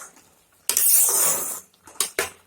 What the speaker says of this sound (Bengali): ভালো করে আবার নাড়িয়ে নিব।